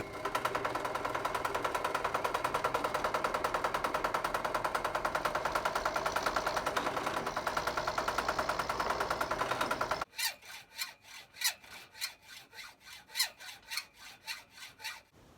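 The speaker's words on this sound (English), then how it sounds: "letting me use his bench drill" A bench drill grinds into copper in a steady, rough buzzing drone for about ten seconds, then gives way to short, separate scraping bursts.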